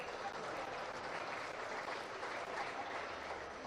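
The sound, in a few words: audience applause for swine show exhibitors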